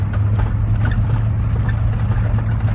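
A V10 truck engine with 3.55 gears drones steadily as it tows uphill on a big grade, a loud continuous low rumble without a break.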